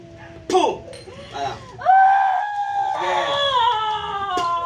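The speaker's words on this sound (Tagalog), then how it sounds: "Lakasan mo pa yung sigaw mo." A person screams loudly and repeatedly, with drawn-out anguished wails rising and holding high, broken by shorter cries, near and harsh, while another voice speaks between them.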